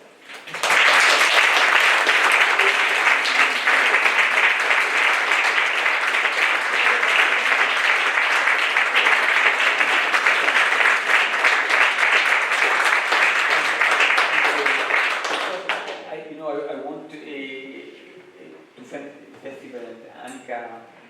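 A large crowd at an author's meeting with readers applauds loudly and steadily for about fifteen seconds before the clapping fades and a voice begins speaking.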